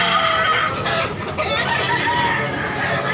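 Roosters and fowl at a Tabunok, Cebu market, including a Tasmanian-colored bird, cluck and call amid a dense, noisy crowd background, the bird sounds mixed into steady ambient clamor.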